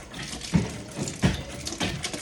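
Water runs steadily from a kitchen tap as hands are washed after handling raw chicken wings, a close, continuous splashing with a few louder surges and no talk over it.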